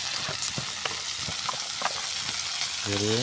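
Local chicken meat fries in oil with a loud, constant close sizzle and crackle, while a voice speaks briefly near the end.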